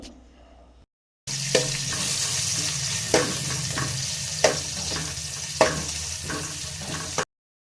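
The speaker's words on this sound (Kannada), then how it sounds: "ಎಣ್ಣೆ ಕಾದ ನಂತರ ಒಂದು ಸಣ್ಣದಾಗಿ ಕಟ್ ಮಾಡಿರೋಂಥ ಸ್ಲೈಸ್ ಆಗಿ ಕಟ್ ಮಾಡಿರೋಂಥ ಈರುಳ್ಳಿನ ಹ್ಯಾಡ್ ಮಾಡಿಕೊಂಡು ಹುರ್ಕೊಳ್ತಾ ಇದ್ದೀನಿ" Sliced onions fry in hot oil in a pan for chicken fry, giving a steady sizzle broken by regular louder stirring scrapes about once a second, with brief quiet stretches at the start and end.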